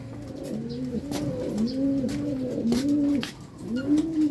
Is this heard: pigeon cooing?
yes